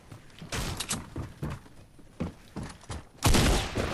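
Shotgun blasts in the Fortnite video game, a string of sharp, punchy reports roughly every half second, ending in a louder burst, with no talking over them.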